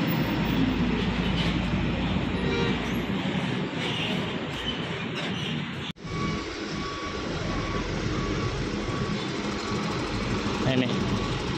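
A Mercedes-Benz 1626 bus of the NPM line pulls into the Pakupatan bus terminal in Serang, its engine rumbling loudly and continuously among general terminal noise with reversing beeps and voices nearby.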